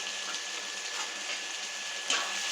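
Chopped tomatoes sauté with a little salt in a pan for crab gravy, giving a soft, steady sizzle and crackle close by, with a brief clatter near the end.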